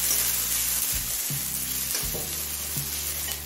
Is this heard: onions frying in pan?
yes